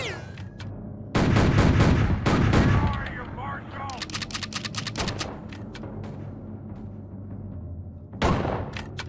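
Repeated gunfire in the Western shooter game Outlaws: loud bursts of shots and rapid volleys with gaps between them, and a final burst near the end over a constant low game background.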